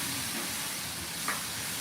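Sockeye salmon in a pan with water just added hisses and sizzles quietly and continuously as it steams, a faint even fizz with a brief brighter crackle near the end.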